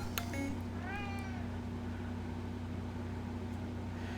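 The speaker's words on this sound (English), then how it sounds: "And my cat is coming over here." A house cat gives a single clear meow up close, rising then falling, over a constant low electrical hum and faint background noise, with no talking.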